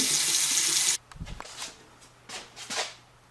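Water rushes loudly through household plumbing as the supply to a water heater is reopened, then cuts off abruptly after about a second, leaving a few soft knocks and faint hissing surges.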